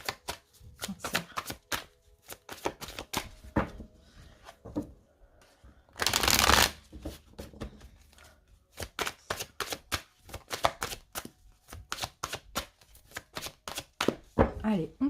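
A deck of tarot cards is shuffled and cut by hand in a series of quick riffling bursts and soft slaps, with one longer, louder riffle partway through.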